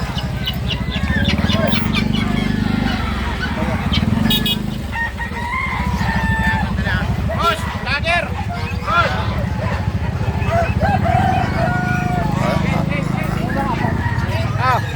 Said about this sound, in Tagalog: tandang malalaki oh